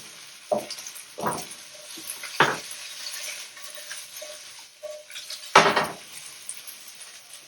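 Fish sears in a hot pan for a Feast of the Seven Fishes meal. A few sharp metallic clanks and scrapes mark the pan being tossed and stirred, spaced over several seconds above a faint sizzle.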